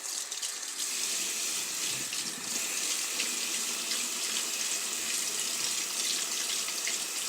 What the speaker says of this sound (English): Put this to the side and rinse this brush.